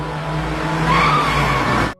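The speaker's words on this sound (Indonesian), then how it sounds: "tiba-tiba ada truk yang menabraknya." A truck skids on a road in a Japanese film scene, a loud continuous tyre screech lasting nearly two seconds before cutting off abruptly.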